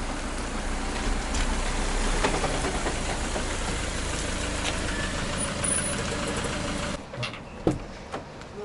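A car pulls up outside, its engine a steady mid-low rumble for about seven seconds before cutting off, followed by a few faint knocks and clunks.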